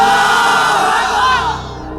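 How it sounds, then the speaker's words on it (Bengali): A large religious gathering's crowd roaring the takbir, Allahu Akbar, in unison, a loud sustained massed shout that swells and then fades. "বলবে আল্লাহু আকবার"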